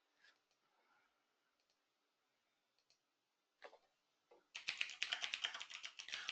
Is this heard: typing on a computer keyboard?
yes